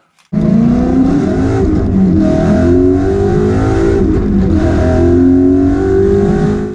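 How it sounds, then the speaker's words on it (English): A loud Ford Boss 302 engine with its side pipes removed, exhausting straight from the header, starts and revs hard, with a rough, throaty roar that rises and falls over several seconds. "I don't know how this car is going to sound without that"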